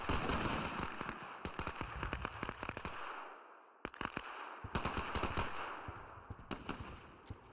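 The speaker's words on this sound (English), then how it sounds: "Friendly shooting into the dirt." Friendly troops firing in the World War II strategy game Men of War 2: sharp bursts of machine-gun and rifle fire crackle in rapid clusters, pausing briefly in the middle before the shooting resumes.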